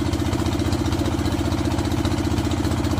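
A boat engine runs steadily as the craft nears a riverside ghat, a loud, close, rhythmic low chugging drone with constant throb and no pauses.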